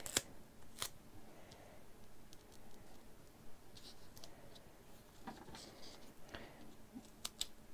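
Scissors snip during a crafting session, with a few sharp, isolated cuts and soft scraping and handling noises in between. The sounds are close but faint and irregular, with no talking.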